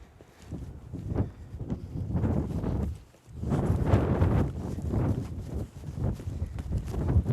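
A mustang horse walking, its hooves moving in a steady, uneven clip-clop of soft thuds over rustling ground, close to the microphone with some wind noise and a brief pause midway.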